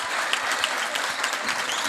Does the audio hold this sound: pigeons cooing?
no